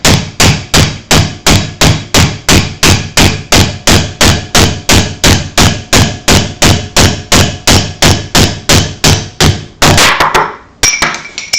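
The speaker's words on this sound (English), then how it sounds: "you just start nailing it through, and you can see that it's pulling it up here and chiseling it away" Rapid, evenly spaced loud hammer blows drive square wood stock through the 5/8 inch hole of a steel dowel plate, about two strikes per second for ten seconds, close and ringing, ending with a few scraping knocks.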